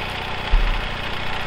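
A tractor engine idles with a steady low rumble and faint knocking vibration, continuous and fairly close, with no voices.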